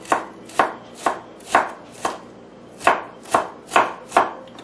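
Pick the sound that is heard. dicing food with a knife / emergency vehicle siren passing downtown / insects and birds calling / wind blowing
dicing food with a knife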